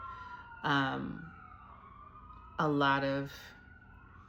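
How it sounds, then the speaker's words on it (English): A distant siren wails faintly and steadily in the background while a person speaks two short phrases close by. "I don't know if you can hear the siren in the background"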